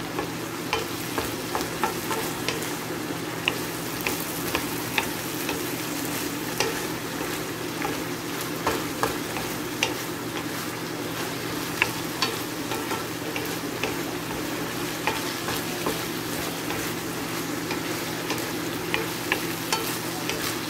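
Ground pork sizzles steadily in a pan as it is stirred and fried, a continuous crackling hiss with regular scraping taps from the spoon throughout and no voices.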